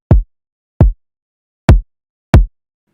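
Four dry, unprocessed kick drum hits without EQ or compression, in an instrumental hip-hop remake beat, each a short punchy thump with a low boom, spaced unevenly and heard alone.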